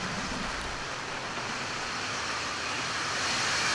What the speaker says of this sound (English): Liftoff to the Atlas NROL-101 mission for the National Reconnaissance Office.